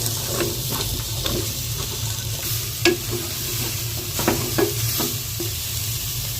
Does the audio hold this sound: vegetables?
yes